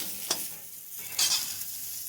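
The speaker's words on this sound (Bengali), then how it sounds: "এবার আলুটা ভেজে নেবো" Potatoes frying in oil in a wok, a soft sizzle broken by two scraping stirs, the second longer and louder, close by with no talking.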